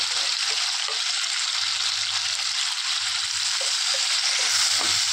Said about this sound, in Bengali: আর হলুদ দিয়ে ভেজে নেব লাল লাল করে।